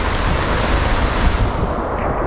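Heavy rain pours steadily onto a boat anchored in Bocas del Toro, a dense, loud, continuous hiss with no voices.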